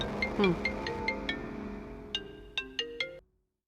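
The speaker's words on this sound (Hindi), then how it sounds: "मैडम, आपका फोन है मैडम।" Phone ringtone going off indoors, a bright melodic electronic jingle of rapid tones with a pause and then a short repeated phrase before it stops.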